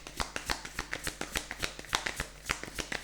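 A tarot deck of guardian angel cards being shuffled by hand, a quick run of crisp, close card riffles and slaps, steady and rhythmic with no talk.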